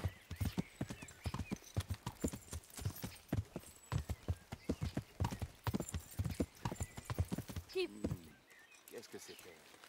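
Horse hooves clip-clop steadily in the medieval game Kingdom Come: Deliverance, a busy, quiet rhythm of hoofbeats with a brief whinny near the end and someone talking over it.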